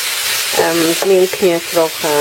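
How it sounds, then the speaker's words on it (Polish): Onion frying in a pan, a steady close sizzle running throughout under a voice speaking Polish. "I tak smażymy około 3 minut. Ta cebulka musi się nam po prostu zeszklić"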